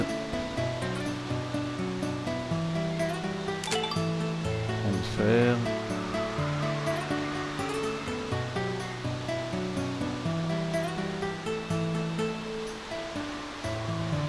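Steady rushing water of a waterfall in the video game Dark Chronicle, a continuous wash running beneath game music with someone talking briefly in French.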